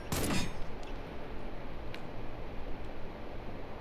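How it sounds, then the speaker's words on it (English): Gunfire in the video game America's Army: Proving Grounds: a loud burst of shots at the start, then a steady noisy game background with a couple of faint clicks. "Who's shooting at me?"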